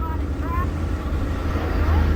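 A 4-wheel tour truck drives through river water at Canyon de Chelly National Monument, with a steady low engine rumble, wind buffeting the microphone and voices in the background.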